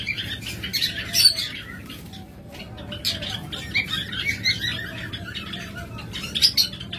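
Many caged pet birds for sale, such as lovebirds, budgerigars, Java sparrows and cockatiels, squawk and chirp in bright, busy bursts at close range over a steady low background hum.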